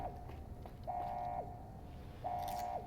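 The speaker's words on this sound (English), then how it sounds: "I'm sorry about that beeping" An electronic beeping plays in Fallout: New Vegas near a floor safe: a steady, thin tone sounds in three pulses of uneven length, clear against a quiet game background.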